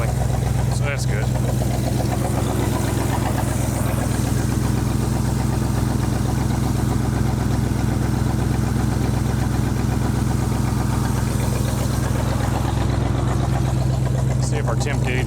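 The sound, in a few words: 1965 Ford Mustang engine idling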